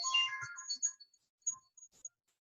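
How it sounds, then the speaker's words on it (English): A phone ringtone for an incoming call chirps alone in a quiet room: a short bright melodic burst, then a few fainter scattered tones fading out. "Sorry, I'm getting a phone call."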